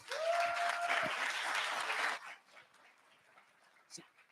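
Audience applause fills the first two seconds, loud and steady with a brief tonal squeak near the start, then fades to a quiet room with a faint voice near the end.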